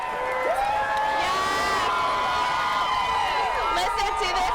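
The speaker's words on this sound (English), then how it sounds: "Listen to this crowd." A dense street crowd at the KU Jayhawks basketball championship parade, families and young children among them, cheers and whoops continuously, with high shouts rising and falling over a steady roar.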